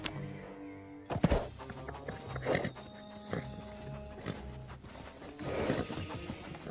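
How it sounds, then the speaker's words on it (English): A horse neighing and huffing, with a loud snort followed by several breathy huffs and whinny-like calls, close and clear over low background noise. "the majority of the time his neighing or huffing was very dramatic or sarcastic"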